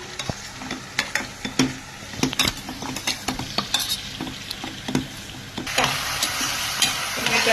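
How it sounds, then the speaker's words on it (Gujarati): Repeated thudding and scraping of a masher mashing boiled vegetables for pav bhaji in a sizzling pan, rhythmic irregular strokes over a steady hiss, growing louder toward the end. "હજુ આપણી ભાજી બફાઈ ગઈ છે તો એને મેશ કરી દઈશું"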